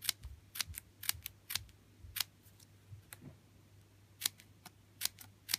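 Scissors snip paper into a scalloped flower shape, a series of sharp close crisp cuts in irregular quick bursts with short pauses between, against a faint low hum.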